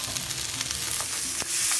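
Onions frying in a pan for a flat bean curry, a continuous close hiss of sizzling oil with faint stirring ticks, brief and without speech.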